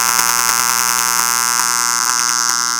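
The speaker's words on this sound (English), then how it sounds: "the LED start glowing and the buzzer also start ringing" Electronic buzzer on an ultrasonic sensor circuit, sounding a loud, steady shrill tone with a fast pulsing flutter, continuous and alone for about three seconds.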